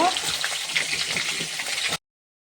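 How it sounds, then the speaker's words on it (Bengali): Potatoes fry in a pan of oil with bay leaves, whole garam masala and cumin, making a dense close sizzle for about two seconds before the sound stops abruptly. "আলুগুলো প্রথমে দিয়ে একটু ভাজা করে নেবো"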